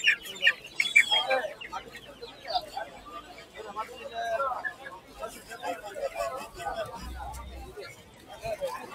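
Fighter cock chickens at a crowded bird market clucking and calling in short bursts, mixed with a busy background of people talking close by.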